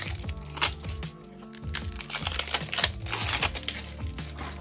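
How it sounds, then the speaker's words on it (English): Scissors cut open a subscription box package, crisp snipping and crackling of plastic and cardboard in quick irregular bursts, close to the microphone. "Do I have something sharp? I have a pair of scissors."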